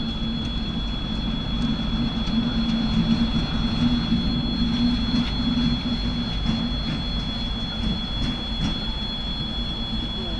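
A small red freight-car train rumbles past close by in Russia, steady heavy rolling noise with a faint high whine and occasional metallic clatter, no voices.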